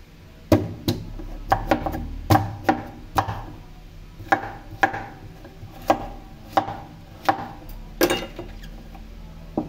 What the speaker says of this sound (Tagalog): Nabalatan ko na yung ating kalabasa. So, hihiwain na natin